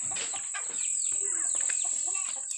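Chickens cluck and chirp in a busy, noisy barnyard, with a steady high-pitched whine running over the birds throughout.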